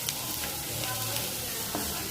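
Onions sautéing with mutton masala and turmeric powder for a South Indian vegetable kurma, a steady hissing sizzle with soft stirring scrapes throughout, no talk heard.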